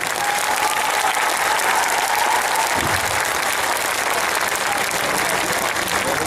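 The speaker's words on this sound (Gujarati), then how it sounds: "જરા પકડેલ તાળીઓ પડવી જોઈએ" A large rally crowd at a political speech in Gujarat claps continuously and loudly, a thick unbroken wash of applause with a brief whistle-like tone early on and scattered voices underneath.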